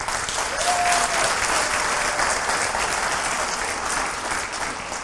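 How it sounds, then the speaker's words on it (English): Sustained applause from an audience at Gardena's 2018 State of the City address, a dense even wash of clapping hands filling the room at steady loudness for several seconds, with no voices over it. "So please give her a round of applause as well."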